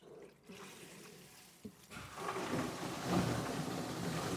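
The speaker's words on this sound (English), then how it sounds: "you can hear that water coming through that float, filling this tank. You can hear it splashing in there." Well water pours through a float valve and splashes into a storage tank, a steady soft trickle that swells into louder splashing midway.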